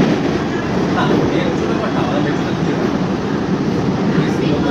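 An AC local train running from Ranaghat toward Sealdah, a steady loud broadband rumble and hiss heard from inside the coach, continuous and unbroken throughout.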